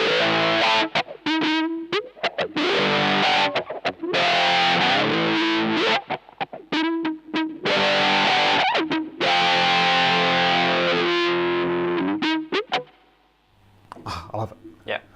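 Distorted electric guitar with a wah pedal dialed in, sustained sweeping phrases and accented notes, loud and close, fading near the end.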